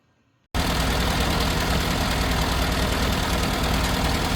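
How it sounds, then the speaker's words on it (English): An Innocenti with twin carburettors and a high-energy ignition coil bursts into a loud, steady close-up running note after a moment of near silence, with a continuous rough idle and no break. "So now that I've got the engine running,"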